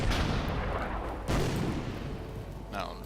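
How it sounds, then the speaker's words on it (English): Artillery bombarding a mountainside in the WW2 strategy game Order of Battle: a dense rumbling barrage of booms with a sharper blast near the middle, heavy low-end roar throughout. "Now let's keep bombarding that mountainside."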